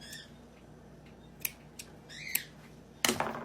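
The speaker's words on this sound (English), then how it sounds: "you clip your strings" Scissors snip yarn ties on a hand-tacked quilt: a few sharp, crisp clips spaced apart in a quiet room, the last one the loudest and closest.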